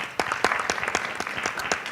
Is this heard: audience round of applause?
yes